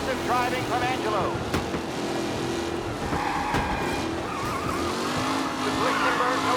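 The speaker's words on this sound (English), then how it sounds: "Aggressive driving from Angelo." Race cars in Mafia: Definitive Edition skid with squealing tires as engines roar through aggressive racing, loud and continuous with repeated screeches, while voices shout over the action.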